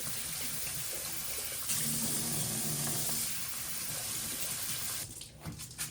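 Rinse water runs steadily from a kitchen tap and drains through a small strainer of rice, a constant close splashing hiss that breaks into lighter, uneven trickles near the end.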